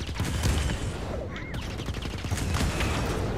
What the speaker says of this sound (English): So that fires the cannon.